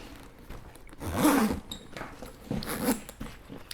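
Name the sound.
GORUCK Bullet Bag zipper being zipped closed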